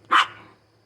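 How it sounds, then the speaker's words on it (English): One dog gives a single sharp bark nearby, loud and brief, fading quickly into a quiet room with a low hum. "Apologize for the dogs."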